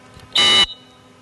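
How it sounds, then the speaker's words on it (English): A single short electronic beep from a retriever training collar or whistle signal during a field drill, loud and harsh, lasting about a quarter second against quiet outdoor background. "here comes a beep"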